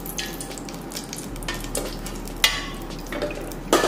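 Cumin seeds sizzle and crackle in hot oil in a kadhai, a steady close frying hiss with occasional stirring clinks and a few sharper pops, no voices.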